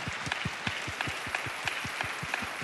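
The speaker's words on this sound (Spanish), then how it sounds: "Aplauda, rápido, rápido, rápido." A church congregation claps in a fast, steady rhythm. The regular beats are fairly faint, with a soft crowd wash underneath and no talk over them.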